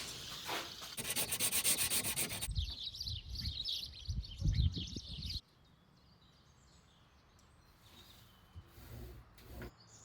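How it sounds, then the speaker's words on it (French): Painted wooden shutters are sanded by hand in close, rasping strokes for several seconds, followed by a quieter stretch with birds chirping in the background. "Ensuite, on vient les poncer pour attraper déjà les couleurs de base."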